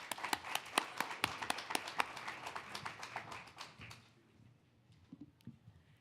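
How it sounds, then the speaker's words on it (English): A small audience claps for panelists at a youth-jobs discussion, sharp individual claps close by for about four seconds before fading into near quiet with a few stray claps. "So let's give them a round of applause."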